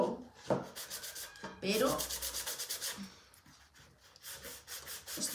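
Wood being sanded by hand with sandpaper, rapid rhythmic scratchy back-and-forth strokes, close and fairly quiet, with a brief spoken word near the start.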